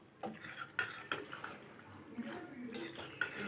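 A spoon scrapes and clinks against a pan while creamy cheese pasta is stirred, producing irregular metallic taps and soft squelching strokes at close range.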